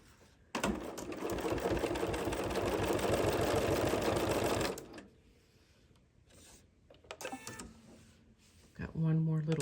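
A sewing machine stitches a quilt block in a steady, close, rapid run for about four seconds, then falls silent before a few shorter bursts of stitching and handling noises, with a voice talking around it.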